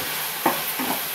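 Vegetables being sautéed in a pan for a kurma, with a soft background sizzle and two short scraping stirs of a spoon against the pan.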